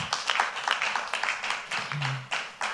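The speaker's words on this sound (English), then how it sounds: "I want us all to give another round of applause to the Minister of Finance." A crowd at a plastics policy event at a finance ministry gives a round of applause, a steady patter of many hands clapping at close range, with a brief voice rising near the end.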